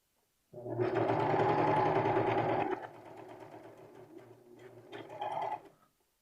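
A serger stitches a T-shirt neckline in a close, loud burst of rapid whirring, then keeps running slower and quieter, with a brief speed-up near the end before stopping.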